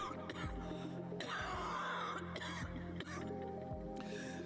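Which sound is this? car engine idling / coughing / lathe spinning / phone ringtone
coughing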